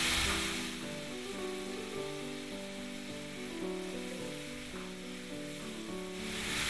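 Makhani sauce and pasta sizzling steadily in a hot pan, a dense continuous frying hiss with faint stirring scrapes, close and even throughout, no voices.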